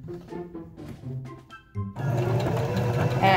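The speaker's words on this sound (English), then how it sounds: "I will sew that bottom pieces together." A sewing machine stitches the bottom seam of a DIY fabric face mask, starting after soft handling sounds with a close, steady rapid whirring run that carries on to the end, no talking over it.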